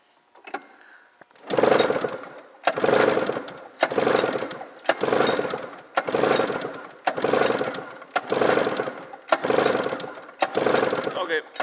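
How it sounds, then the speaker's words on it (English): A 1999 Arctic Cat ZL 500 EFI snowmobile engine, PTO clutch side, cranks over during a compression test in a steady, evenly spaced series of about nine loud rhythmic pulls after a brief pause. "1999 Articat ZL500 EFI engine compression test."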